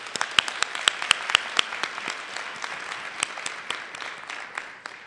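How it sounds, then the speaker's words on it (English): An audience at an award event honoring military service members and women veterans claps in a steady burst, with sharp individual claps standing out and the applause slowly thinning toward the end. "Can we please, let's give them a round of applause."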